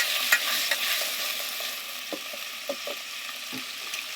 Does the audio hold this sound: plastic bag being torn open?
no